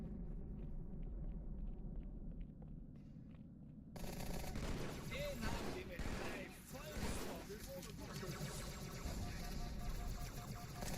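Gunfire in Halo 2 on Legendary difficulty, a dense rattle of automatic shots and rumbling impacts that starts abruptly partway through and continues loud and steady, with voices speaking over it.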